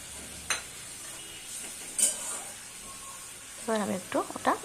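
Fried flat beans are dropped into a pan of poppy-seed gravy, giving soft sizzling hisses and a couple of sharp bursts with stirring clatter, while a voice talks over the last part.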